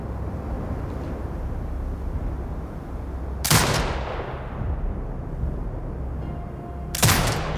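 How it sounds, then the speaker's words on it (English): Two sharp, loud turret gunshots boom from a Sniper Ghost Warrior Contracts 2 tutorial mission, a few seconds apart, each with a rolling tail over a low ambient hum. "Exit binocular mode and command the turret to fire."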